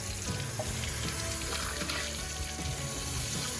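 Running water from a tap splashing steadily while a Scotch-Brite pad scrubs a part in a sink, a continuous close hiss without speech.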